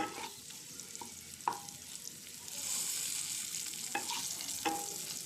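Radish pieces stirred as they fry in an uncovered pan for a chutney, a soft steady sizzle with a few sharp spatula clinks and scrapes, close and fairly quiet, with no voices.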